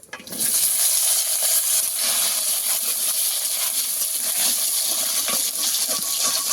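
Cut potatoes drop into hot oil with cumin seeds, setting off a sudden loud rush of sizzling that settles into a steady, close frying hiss with occasional pops, no voices over it.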